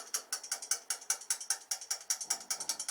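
An unidentified hand tool ratchets in a fast, steady series of about twenty crisp clicks while being tightened, close and alone, easing slightly near the end.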